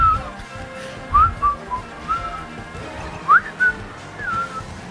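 A person whistles a short tune during a casual Mario Kart gaming stream, a few brief rising and falling notes in separate bursts, fairly close, over a low background hum with no talking.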